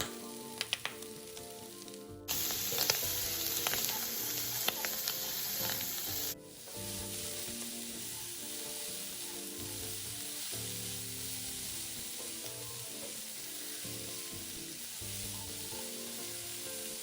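Dried shrimp, yam bean and carrot are stir-fried in a wok, giving a loud, steady sizzle with scraping stirs. The sizzle drops after a few seconds and then settles into a softer, continuous frying hiss.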